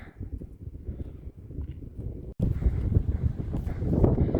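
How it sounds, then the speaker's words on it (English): Wind blows on the mountain top of Round Bald, first as a low, muffled rumble against the microphone. After a sudden cut it becomes louder, rougher buffeting with gusty rushes. "Even though it has been a little breezy"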